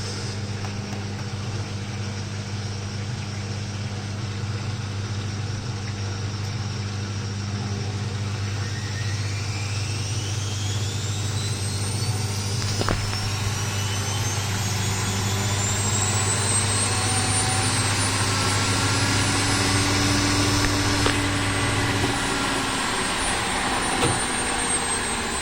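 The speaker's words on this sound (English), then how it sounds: "So you could do like a service mode spin with this glitch, because it will keep the pump on now." A Beko WMB71233W washing machine in service mode runs its drain pump with a steady low hum that cuts out near the end, while a motor whine rises and sweeps upward in pitch.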